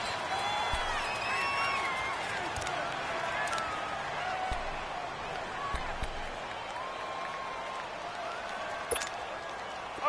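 Stadium crowd noise from the Madden 19 video game, a steady roar of cheering fans building toward a big third down in a Vikings drive, sustained and fairly loud with commentary faintly layered over it.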